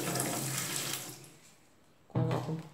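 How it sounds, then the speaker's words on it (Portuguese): Alcohol poured into a homemade bleach liquid soap mixture makes a steady running-liquid trickle that fades out, then a louder splashing pour starts near the end. "Agora eu vou começar a colocar o álcool"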